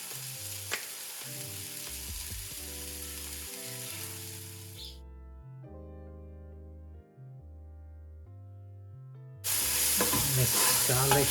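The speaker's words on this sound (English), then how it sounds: "Mix garlic with leek and onion" Garlic, leek and onion stirred in a pot give a steady sizzling hiss that fades out midway and returns loudly at the end, with background music playing throughout.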